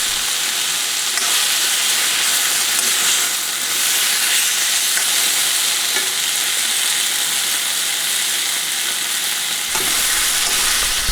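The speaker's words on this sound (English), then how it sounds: "And lots of flavour in the coriander stalks, finely chopped up, mixed in at this stage so they can cook nicely." Chopped coriander stalks and onion sizzling steadily in a hot pan while being stirred, a loud continuous frying hiss with occasional scraping, no talking.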